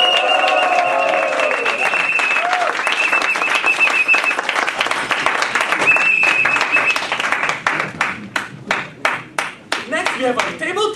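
Audience applause with cheers and whistles greets a speech champion at a Toastmasters District 51 champions' night, loud and sustained at first, then thinning into scattered individual claps toward the end, with voices mixed in.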